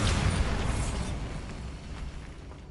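A Bombarda spell explosion in the video game Hogwarts Legacy, a strong burst at the start that fades into a crumbling, rumbling decay over a couple of seconds, with no voices.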